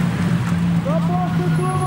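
A Ferrari race car at a mountain hill-climb slalom event roars past with a rising, then steady engine note under excited commentary in German.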